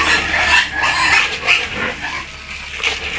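Pigs grunting and squealing at feeding time on a farm, a loud continuous jumble of several animals close by, with no clear speech.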